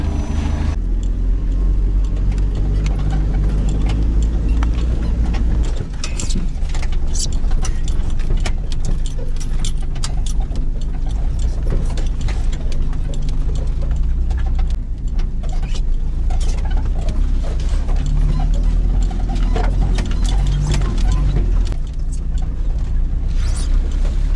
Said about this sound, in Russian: Глушить не стану двигатель. Пока работает.